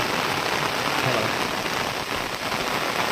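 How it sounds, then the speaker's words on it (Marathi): Dense, heavy rain pours down constantly on a hillside, a loud unbroken hiss of drops hammering nearby surfaces, including an umbrella, with no pauses. "आता आपण पावसामध्येच आहोत खूप पाऊस चालू आहे"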